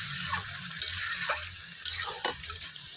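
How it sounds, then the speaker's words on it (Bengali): Ridge gourd and potato pieces sautéing in a pan for jhinge posto, with a steady close sizzle and several sharp scrapes and knocks of a spatula stirring the vegetables, no voices. "আলুগুলো ঝিঙের মধ্যে ঢেলে দেব, দিয়ে ভালো করে ঝিঙে আলু কষিয়ে নেব"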